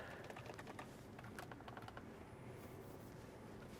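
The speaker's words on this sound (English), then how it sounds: "You try clicking the buttons?" Fingers press buttons inside a saltwater flood-damaged Tesla, making a quick run of light plastic clicks and taps through the first two seconds. The clicks sit over a steady low hum and then fade out.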